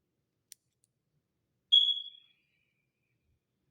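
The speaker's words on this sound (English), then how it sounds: "let's light some Palo Santo" A Palo Santo stick is lit with a lighter: a tiny click, then a brief close hiss of flame that fades within half a second, in an otherwise quiet room.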